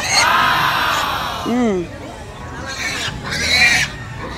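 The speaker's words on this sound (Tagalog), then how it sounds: "Ang dami na ngayon ng baboy." Pigs on a pig farm squeal and grunt loudly amid a noisy pen, with high wavering squeals and overlapping calls and a person talking among them.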